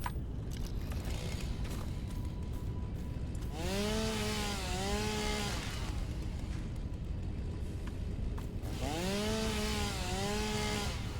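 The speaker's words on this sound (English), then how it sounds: "Let's get the chainsaw back out." A chainsaw in the game Satisfactory revs up in two separate whining bursts, each lasting about two seconds, over a constant mechanical background hum.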